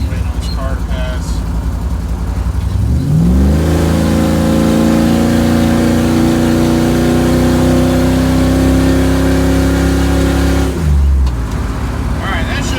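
A tuned car revs up and accelerates hard from about three seconds in, its engine note climbing steadily and loud for several seconds with the tires spinning, then it drops back off near the end.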